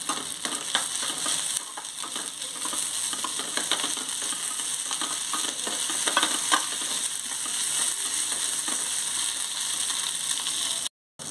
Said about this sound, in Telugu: దీన్ని కూడా పచ్చివాసన పోయేంత వరకు వేయించుకోవాలి